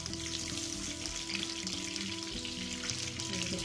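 Chapli kebab fries in a pan with a steady, dense sizzle of hot oil close by, continuous throughout with no talking.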